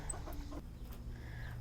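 Chickens cluck softly at close range on a small farm, a few short calls over a low steady background.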